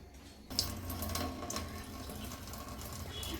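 Finger millet (ragi) is rinsed in water in a kitchen, with a steady stream of running, splashing water starting abruptly and continuing at moderate level, alone without talk.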